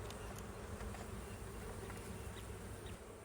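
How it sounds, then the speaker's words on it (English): Honey bees buzz in an open hive box, a dense, steady hum that fills the whole clip, close and unbroken, with no voices. "A lot of bees."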